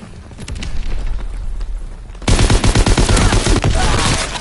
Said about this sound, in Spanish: El sonido de las explosiones luce bastante.